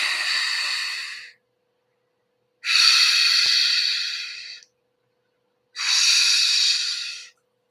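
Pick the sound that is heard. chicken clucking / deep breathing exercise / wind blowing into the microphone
deep breathing exercise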